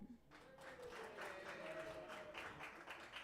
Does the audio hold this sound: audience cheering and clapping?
yes